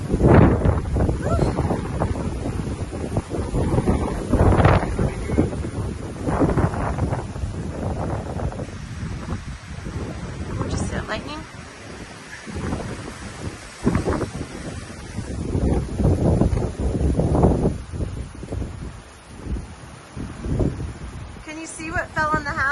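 Hurricane Milton winds gusting around 45 to 50, buffeting the microphone in a loud, continuous roar with surging gusts and rustling that swell and ease over the whole stretch.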